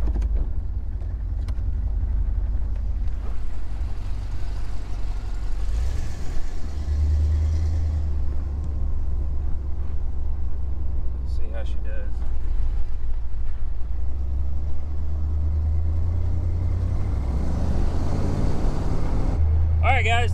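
A 1970 C3 Corvette fitted with a Holley Sniper fuel injection rolls along on a test drive, its steady low engine drone and road rumble continuous inside the cabin, with a passenger and driver talking over it.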